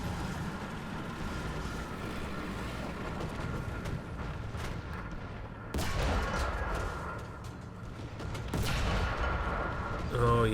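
T-80 light tank guns fire rounds in the War Thunder video game, sharp booming shots landing over a constant rumbling engine drone, with a couple of louder blasts standing out.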